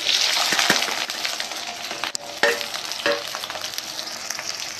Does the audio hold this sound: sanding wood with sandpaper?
no